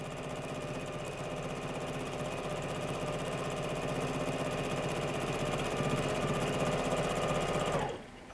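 Quilting machine stitching a swirl on a quilt, a steady, fairly quiet mechanical hum with a fast even stitch rhythm running for about eight seconds, then stopping abruptly.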